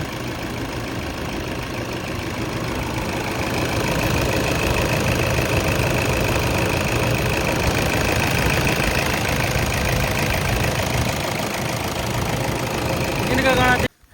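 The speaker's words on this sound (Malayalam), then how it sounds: "ഇതാണ് എഞ്ചിൻ്റെ വർക്കിങ്" A 2015 Toyota Innova engine idles with a steady, continuous mechanical drone and a faint knocking texture, close and fairly loud, holding level for the whole stretch before cutting off abruptly at the end.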